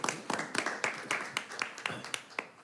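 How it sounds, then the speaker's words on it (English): Clapping from the audience at a school district board of education meeting: a short run of fairly close hand claps at an even pace, fading after a few seconds. "you can clap for that."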